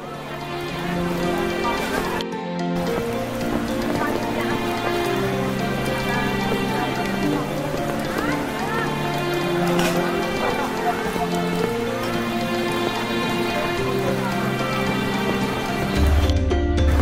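Steady heavy rain drums on tarps covering a roadside food stall in BSD, Tangerang, a continuous dense patter that lasts throughout, with voices talking underneath.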